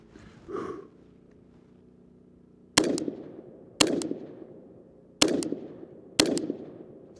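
Rifle shots at shooting practice, four sharp loud cracks spaced about a second apart after a quiet stretch with a brief soft sound near the start.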